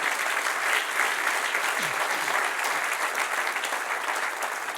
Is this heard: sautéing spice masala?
no